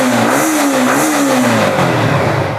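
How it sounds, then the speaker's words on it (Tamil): A 2022 Yamaha MT motorbike in good condition revs loudly up close, its engine note rising and dipping in pitch over a few seconds as the throttle is worked, with no talking. "ரேஸ் பண்ணி கொடுக்குறேன்."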